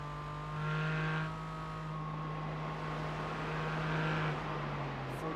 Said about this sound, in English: you can enjoy the pure engine sound from the Porsche